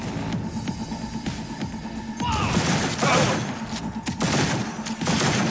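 Bursts of gunfire from a gun in the video game Cyberpunk 2077, loud and close, with repeated short volleys and crashing impacts over a busy game soundscape.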